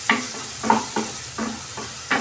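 Coriander leaves dropped into a sizzling tempering for dal khichdi, crackling in bursts with repeated stirring scrapes, near and moderately loud.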